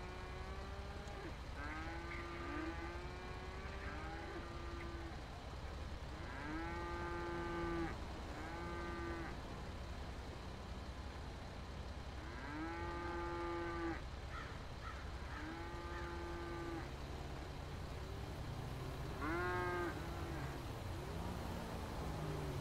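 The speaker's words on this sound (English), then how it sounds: "Oh, these are my cows!" Cows in the GTA RP video game moo repeatedly in drawn-out calls, heard at a moderate distance over a steady low background hum.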